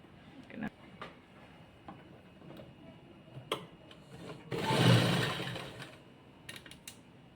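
A sewing machine stitches a child's skirt, with one short burst of whirring running near the middle amid quiet rustling and scattered clicks of the fabric being handled.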